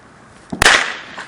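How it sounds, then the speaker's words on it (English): A single sharp firecracker bang on New Year's, loud and close, a brief crack followed by a short crackling tail that fades within a second, with no talking. "A whole firecracker"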